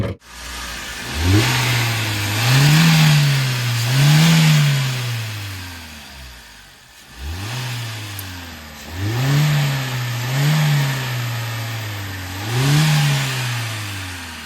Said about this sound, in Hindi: एक बार स्टार्ट कर देना इसे, इसका इंजन और देख लेते हैं